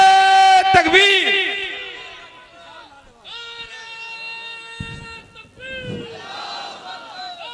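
A mosque-style religious gathering crowd answers a takbir call with a loud collective chant, many voices rising together in harmonic shouts, then fading and swelling again near the end.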